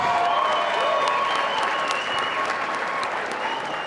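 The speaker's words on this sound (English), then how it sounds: "let's give both fighters a big round of applause" A boxing crowd applauding both fighters after six rounds, a loud, dense wall of clapping and cheering that holds steady throughout the arena, with faint tonal sounds mixed in.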